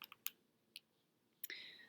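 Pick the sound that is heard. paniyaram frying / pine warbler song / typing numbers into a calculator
typing numbers into a calculator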